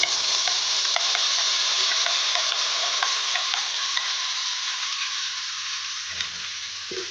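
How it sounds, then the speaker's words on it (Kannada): Ground green masala paste with cardamom and cinnamon fries in a pan for egg curry. A loud, steady sizzle carries on throughout, with faint stirring ticks over it and no talking. "ರುಬ್ಕೊಂಡಿಲ್ಲ ಮಸಾಲೆಯನ್ನು ಹಾಕೊಳ್ತಾ ಇದ್ದೀನಿ"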